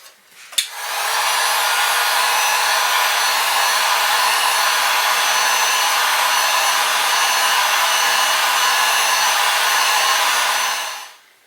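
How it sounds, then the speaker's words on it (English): A heat gun drying fresh paint on a restored fishing lure sounds as a loud, steady electric whine and airy blast. It starts after a brief click, runs unbroken for about ten seconds, then cuts off. "I'm gonna have to heat dry this a little bit longer"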